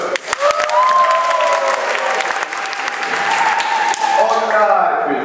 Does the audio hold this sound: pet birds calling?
no